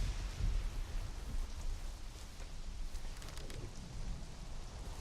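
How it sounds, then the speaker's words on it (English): Steady rain in the Conan Exiles video game falls as a constant hiss, with a deep low rumble of thunder swelling near the start and faint crackles throughout. "that lightning strike sounded close"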